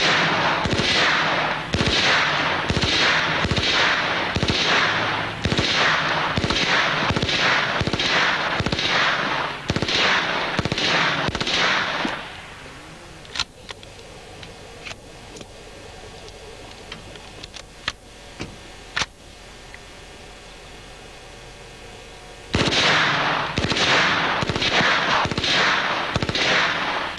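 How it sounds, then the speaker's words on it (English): An HK gun fires in rapid successive shots, two magazine-length strings of loud, close gunfire separated by a quieter pause with a few clicks and handling noises during the reload. "Now we'll try the same thing with the HK with two 40 rounders, and we'll still be 20 rounds short."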